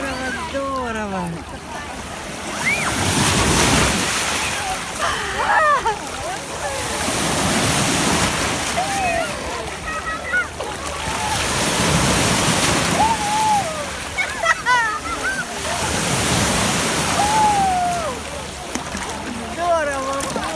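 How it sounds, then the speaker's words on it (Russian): Sea waves rolling in and breaking on a pebbly beach at Sochi, a loud rhythmic surge and hiss every few seconds, with excited voices and a child's chatter over the surf. "Здорово, волны какие."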